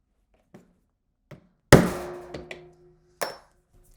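A mallet strikes a 3/8 inch punch to set LOXX fasteners: two light taps, then one sharp, loud knock with a ringing tail, followed by a few quicker, softer taps and a final solid hit, all close and without talk.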